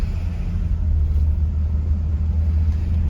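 A restored Canadian 1968 Mercury Meteor Montcalm idles smoothly, close by. Its engine gives an even, low rumbling purr that holds steady throughout, with no voices.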